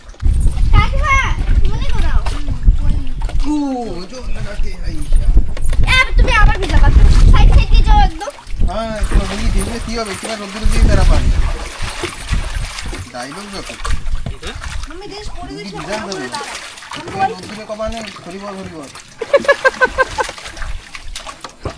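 Water splashes and sloshes around a small boat as family members climb aboard after washing their feet on a crab-catching outing, with bumps and splashes coming in bursts while children and adults talk almost throughout.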